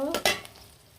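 Chopped onion frying in mustard oil, a brief sizzle with a couple of stirring scrapes near the start, then fading to a soft hiss.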